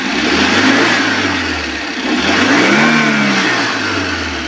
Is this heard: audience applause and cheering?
no